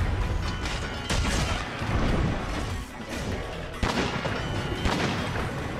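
Gun Lance shells blasting in Monster Hunter World, a dense run of heavy booming explosions and crashing impacts layered over each other, loud and continuous with sharper bursts near the end.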